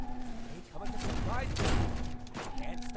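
Gunfire in the video game Strike Force Heroes, a dense rattling burst of shots building to a loud peak in the middle, heard under someone talking.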